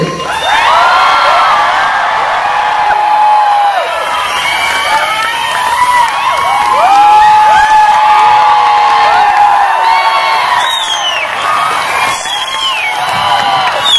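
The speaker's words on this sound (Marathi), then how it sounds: "ladies and gentlemen, give a big round of applause and welcome Mr. Saurabh Sheetal Suresh Bhosle" A large live crowd at a stage event whooping, shouting and cheering loudly and continuously, with scattered clapping beneath the excited voices.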